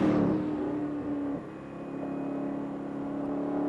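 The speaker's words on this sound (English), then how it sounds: "The engine sounds good, and the car feels right." A 1991 Ginetta G33 sports car engine hums steadily at close range, starting with a brief louder rev that settles into an even, sustained drone.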